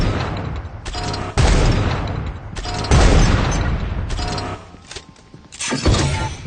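Gunfire from an area-damage sniper rifle in the shooter game Pixel Gun 3D, several loud booming shots and blasts in quick bursts, each with a short echoing tail, close and dense.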